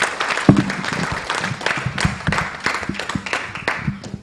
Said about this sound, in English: I would like to ask everyone to give a round of applause for Talib.